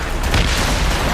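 A single loud, close boom from a mortar explosion in Assassin's Creed Rogue, a deep broadband blast that fills the short moment.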